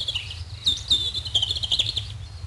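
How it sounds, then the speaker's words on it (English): A robin sings a high, continuous warbling phrase with rapid twittering notes over a low background hum, close and fairly clear, in a children's bird-sound game set around an oak tree. "The robin."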